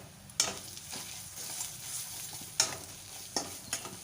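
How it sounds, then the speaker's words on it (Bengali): Ginger garlic paste fries with onions in hot oil in a pan for a fish kaliya, a soft steady sizzle broken by a few sharp spoon scrapes and taps, close and fairly quiet. "এটা আমি দিয়ে খানিক্ষণ ধরে আবার ভেজে নেব"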